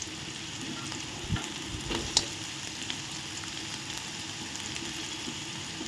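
Chopped onions sauté in a pan toward golden brown for an egg gravy, giving a continuous close sizzle with occasional spoon scrapes and clinks over a faint background hum, with no voices.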